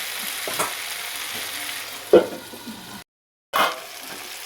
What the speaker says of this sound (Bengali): ভালোভাবে আমি একটু নাড়ি করে নেব।